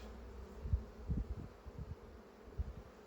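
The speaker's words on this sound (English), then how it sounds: "I know I have a lot of bees in here" Honey bees buzz in an open second-year hive, a low steady hum broken by a few louder swells as bees pass near, with no talking.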